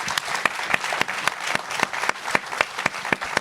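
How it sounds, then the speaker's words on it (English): Audience applause for a panel at an evening event on Black entrepreneurship in Philadelphia: steady, fairly close clapping from a modest crowd with sharp individual claps standing out, continuous for the whole stretch. "So can we give our panel a round of applause?"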